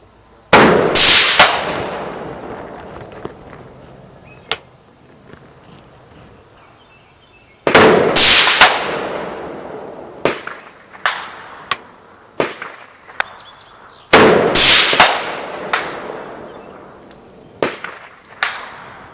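An AR rifle with an 18-inch barrel fires at an outdoor range: loud, sharp shots come in three bursts with ringing decay, and fainter cracks and impacts fall between them.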